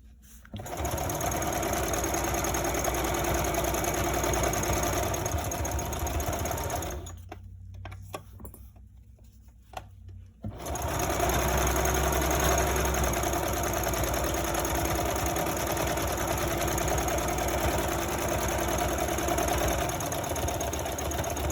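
A sewing machine stitches a reusable cloth menstrual pad with a steady, fast mechanical whirr. It stops briefly partway through, then resumes at the same even pace.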